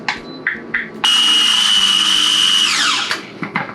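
A kitchen blender purees cashews for a vegan truffle aioli, roaring loudly and steadily for about two seconds before the motor pitch drops as it winds down, with short bursts before and after.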